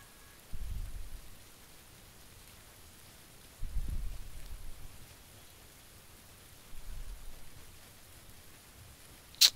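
Steady hiss of rain falling in PUBG, a soft constant wash with a few low rumbling thuds swelling in and out, ending on a brief sharp click.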